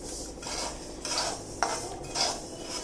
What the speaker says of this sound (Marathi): तीळ सुद्धा मी छान भाजून घेते